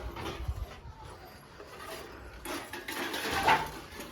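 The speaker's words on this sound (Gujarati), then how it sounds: "મારી મમ્મી વાસણ કરે છે" Dishes, pots and utensils being washed at home in a village, giving faint, scattered metallic clinks and knocks over soft background noise, with one brighter clink near the end.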